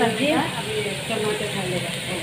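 Ginger and garlic frying in a pot for a Naga-style chicken curry, giving a steady, close hiss of sizzling oil with a faint stirring scrape near the start.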